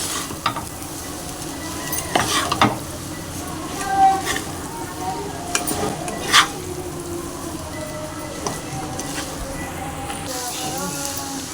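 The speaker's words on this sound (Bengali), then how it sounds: "তো দিয়ে দুটো আমি ভালো করে নাড়াচাড়া করে নেব।" A fried egg is stirred into Maggi noodles in a hot pan, giving a constant sizzle broken by repeated sharp scrapes and clanks of the utensil against the metal, close up; a voice talks intermittently over the cooking.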